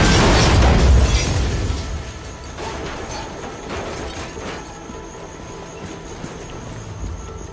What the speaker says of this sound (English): we have a powerful charge pulse that blasts objects apart when they meet